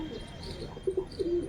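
Pigeons perched in a loft setup give a few soft, low coos close by, three short calls in quick succession ending in a longer one, over quiet background.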